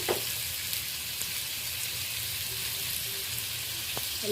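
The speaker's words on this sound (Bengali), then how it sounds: "লবণ হলুদ দিয়ে আলুটা বেশ লালচে করে ভেজে নেব।" Potatoes fry in a little oil with turmeric and salt, giving a steady, close sizzle that hisses evenly throughout, with no voices.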